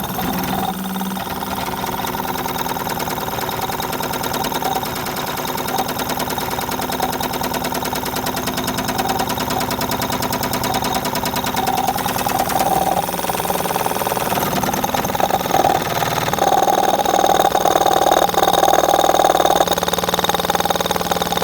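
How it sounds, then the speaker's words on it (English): The fuel pump on a 1966 International Scout, sitting for 36 years, buzzes steadily once powered, a thin continuous whine over a low mechanical hum that grows somewhat louder toward the end. "let's just power up the fuel pump"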